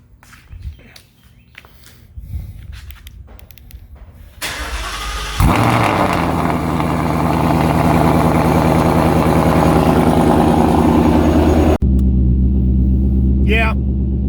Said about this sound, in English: I have not done a cold start yet.